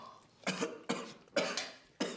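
Four distinct coughs in a steady rhythm, fairly close and moderately loud, with no talking.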